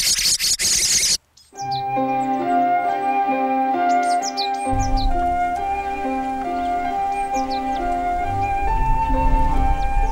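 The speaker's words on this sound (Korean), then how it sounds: "새끼 키우기에 여념없는 새들도 이곳에 오랜 터줏대감이다." Small birds chirp and tweet around Wonheung-i pond, repeated short bright calls over a steady layered background, close and fairly clear, with no voices.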